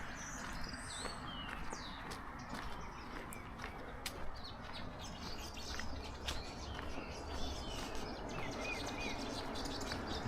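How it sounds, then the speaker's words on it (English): Birds calling outdoors in a leafy, affluent Kitisuru neighbourhood in Kenya: many scattered chirps and short whistled calls over a steady rustling, breezy background, with no voices. "the birds will just be now making some nice calls for you to enjoy"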